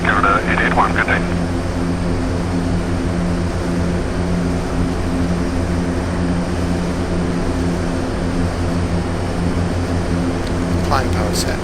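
Aerosoft Twin Otter twin turboprop engines at climb power in a flight simulator, a steady loud droning hum with layered propeller tones, unbroken throughout with brief voice sounds at the start and end.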